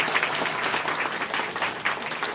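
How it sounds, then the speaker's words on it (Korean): Dense, steady applause from a crowd at a party members' rally in Eunpyeong-gu, welcoming district and city council members; loud, continuous clapping throughout with no voices standing out. "박수로서 환영해 주십시오."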